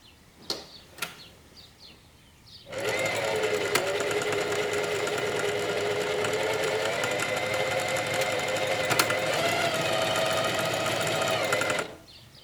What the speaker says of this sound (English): Use your sewing machine's buttonhole tool to create the holes for the belt.